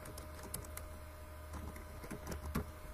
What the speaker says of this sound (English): Typing in the default admin password.